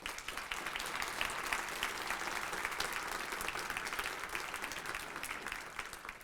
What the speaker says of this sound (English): Please give a round of applause to all of our honorees.